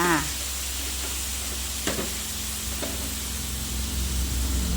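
Lime juice goes into a sizzling sweet and sour shrimp stir-fry, making a steady loud hiss with a couple of soft knocks in the pan and a brief voice at the very start.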